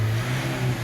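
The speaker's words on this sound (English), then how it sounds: "Sorry about the noise, but yeah, there's another car in the background." Another car's engine drones steadily in the background at a roadside spot where Fiat 500 front brakes are being replaced, a continuous low rumble with no talk over it.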